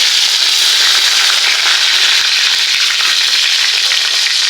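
Cumin seeds frying in hot oil until they turn reddish, a dense, loud, steady crackling sizzle that continues without pause, with no talking over it.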